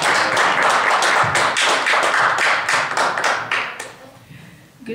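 A church congregation claps along in a steady rhythm, many hands striking together at close range before the clapping thins and fades near the end.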